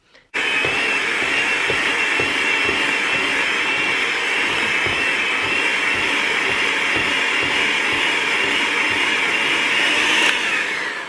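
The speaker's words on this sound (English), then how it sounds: "So I need to break down the fiber of the pulp a bit, and it just speeds it up to do it with the mixer." An electric mixer churns wet paper pulp in a bucket while making paper clay, a steady loud whirring drone that runs unbroken for about ten seconds after a brief start, with faint rhythmic chopping beneath, then cuts off.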